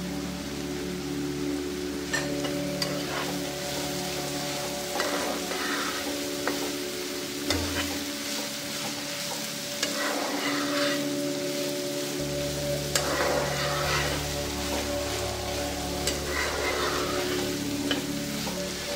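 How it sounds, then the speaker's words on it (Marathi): Frozen peas fry on a medium flame in a pan while being stirred, making a continuous close sizzle with scraping, rustling stir sounds and no speech. "आता आपण यावर मटार घालत आहोत।"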